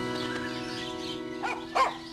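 A dog in a video game about living as a dog gives two short yapping barks over a steady background tone.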